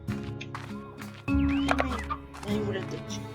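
Chickens cluck in the Slime Rancher video game, several short clucks and squawks over game effects, with a person talking throughout.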